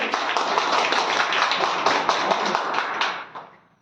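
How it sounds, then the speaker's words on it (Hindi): A small group at a home meeting claps to welcome new attendees, a brisk burst of close hand claps that holds steady for about three seconds before quickly tapering off. "एक बार ताली बजनी चाहिए।"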